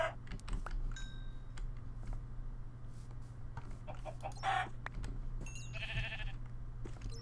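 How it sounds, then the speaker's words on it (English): Chicken clucking in the Minecraft video game, a few short clucks and squawks scattered among other game sounds over a steady low background hum, with no talking. "And I'm going to need some food. Sorry, Mr. Chicken."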